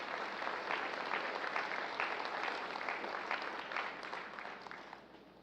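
Steady applause fills a military change of command ceremony for the outgoing Armed Forces Chief of Staff. A large crowd claps evenly for several seconds, then the sound fades slightly toward the end.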